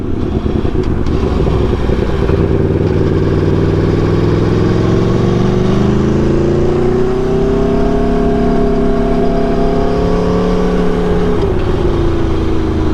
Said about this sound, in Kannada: ಸೊ ಅದ್ರ ಪ್ರಕಾರನೇ ಗಾಡಿ ಓಡಿಸ್ತಾ ಇದ್ದೀನಿ